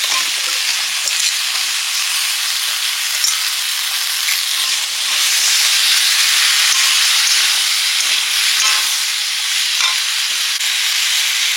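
Potato and taro chunks fry in a pan of hot oil seasoned with turmeric and chili powder, giving a steady, loud, dense sizzle and hiss that fills the whole stretch without pause.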